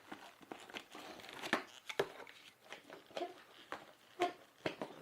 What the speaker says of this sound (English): These little pair of snips should cut through it like butter.